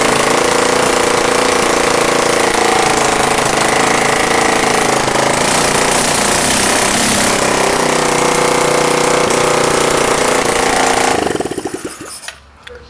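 A carbureted turbocharged engine on a mock-up stand idles loudly and steadily during an oil pressure check, a constant mechanical drone that cuts off abruptly near the end.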